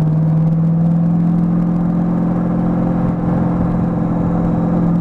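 A Corvette C6 Z06 engine growls close up in a deep, steady, loud rumble that holds an even idle-like drone with a slight rising throb, and nobody speaks over it.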